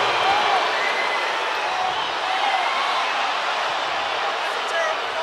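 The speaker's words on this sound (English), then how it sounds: "The crowd reacting because the outside official made the call." A basketball arena crowd at a Cavaliers–Warriors game reacts to a foul call with a sustained, loud roar and murmur that holds steady throughout, with a commentator's voice faintly mixed in.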